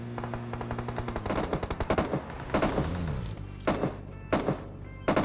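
Gunfire in the PUBG video game: rapid automatic bursts crackle at first, followed by several loud, separated single shots and short volleys, close and sharp with no voices.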